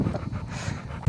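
A dog panting at a sawmill, with rapid, breathy huffs close by in a steady rhythm, ending in a louder thump or bump.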